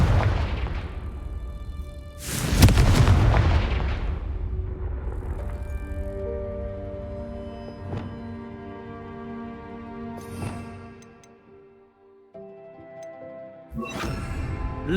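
Confringo fire spell cast in the Hogwarts Legacy video game: a loud burst and booming blast, then a tonal ringing tail with scattered clicks and a second burst at the end.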